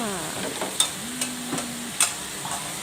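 Luffa gourd stir-frying in a pan, with a soft sizzle underneath and several sharp clicks and scrapes of a utensil against the pan at irregular intervals, close by and fairly quiet.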